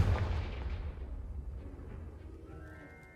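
Confringo spell blast from Hogwarts Legacy: a loud booming burst at the start with a rumbling low-end tail that slowly fades over a few seconds, ending in a faint tonal shimmer.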